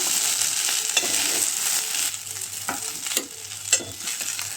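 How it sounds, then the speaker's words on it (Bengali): Fish sizzles and crackles steadily in hot oil, close up, with occasional scrapes and taps of a utensil in the pan. "তুলে নিচ্ছি, ভাজা হয়ে গেছে মাছটা আমার"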